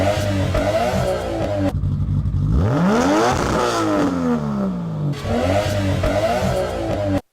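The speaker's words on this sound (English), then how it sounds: "Here's an R32 GTR with a T04Z as well." Nissan Skyline R32 GTR with a T04Z turbo and HKS exhaust revving hard, its engine note sweeping up and down through several loud, close rising and falling pulls with a brief lull between.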